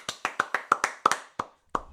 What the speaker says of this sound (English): I'm going to put this down so I can clap it